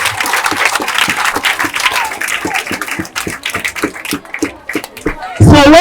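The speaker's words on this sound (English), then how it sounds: "Let's clap for them." A school audience claps for the cooks and head teacher after a feeding-program meal, steady clapping with voices mixed in, ending in a brief loud burst.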